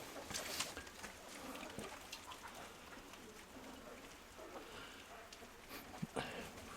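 Pigeons coo softly in the distance against a quiet patter like light rain.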